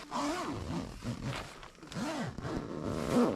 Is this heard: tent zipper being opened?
yes